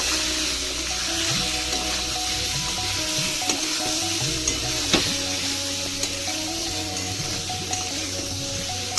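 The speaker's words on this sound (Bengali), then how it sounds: "এবার আমি গাঠি গাঠিগুলো দিয়ে দেবো মাছটা দিয়ে ভালো করে কষিয়ে নেব" Taro (gathi kochu) and fish fry and get stirred in a pan. A steady close sizzle runs throughout, broken by occasional scraping and clinking stirs, with no talk.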